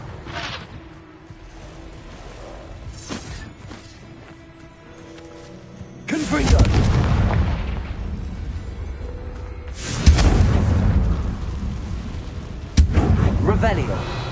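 Confringo spell blasts in the Hogwarts Legacy video game: three heavy booming explosions about four seconds apart, each a sudden loud burst with a rumbling tail, following a quieter stretch of game ambience and small effects.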